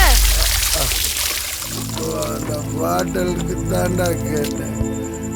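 Water pours and splashes in a steady stream while people talk over it, with some clattering in the background.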